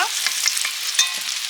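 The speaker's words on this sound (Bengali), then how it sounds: "আলুগুলো ভাজা হয়ে গেছে তুলে নিচ্ছি" Steady sizzling of potatoes frying in hot oil, with a few stirring scrapes, close and fairly loud, no talking.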